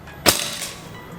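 A single sharp crack from a Predator Escobar semi-automatic PCP air rifle, close and fairly loud, followed by a brief fading tail and a fainter ping a moment later.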